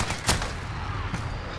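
Gunfire in a Call of Duty Modern Warfare Shipment match: a sharp shot near the start and another around the middle, each over a constant dense rumble of battle noise.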